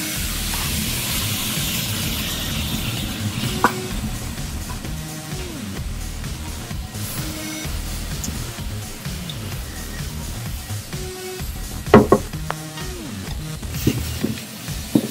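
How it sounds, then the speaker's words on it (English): Potatoes and plantain frying in hot oil make a steady, close hiss and sizzle that holds throughout, with scattered faint clinks and knocks over it. "First fry, potatoes and plantain, first fry."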